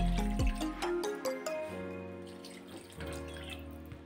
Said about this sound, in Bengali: এর মধ্যে আমি 3 কাপ পরিমাণ জল দিয়ে দিচ্ছি।